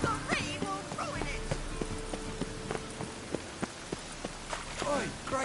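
Rain falls steadily in the video game The Witcher 3: Wild Hunt, a constant hiss under scattered clopping hooves and footsteps, with voices talking over it at the start and end.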